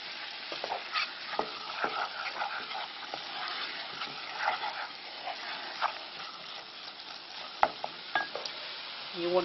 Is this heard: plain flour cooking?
yes